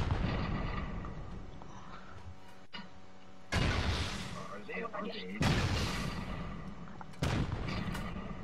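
Rocket blasts in Rust boom in several loud, rumbling bursts, each followed by a trailing roar, with a voice speaking in between.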